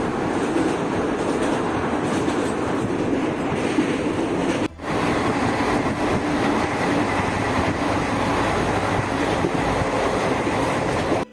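The 12881 Garib Rath Express from Shalimar to Puri runs at night, making a loud, continuous rumble and rattle from inside the coach that dips briefly for a moment before resuming.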